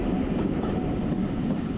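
A Swanage Railway train runs steadily past a small halt without stopping, a continuous close rumble of wheels on track with faint rhythmic clatter and no voices.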